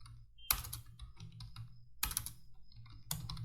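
Keys clatter on a computer keyboard in steady, close typing, with a few sharper, louder keystrokes standing out from the quiet run of taps.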